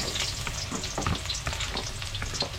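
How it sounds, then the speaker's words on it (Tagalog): Chopped onions sauté in preheated cooking oil for a ground-meat dish, giving a steady close sizzle with crackling pops and scraping stirs throughout. "Napainit ko na po kanina yung mantika. So, igigisa ko na po yung sibuyas."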